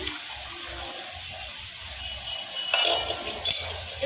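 Hot water poured into a pot of taro-stem dal with prawns, a soft watery wash with two short louder splashing pours near the end.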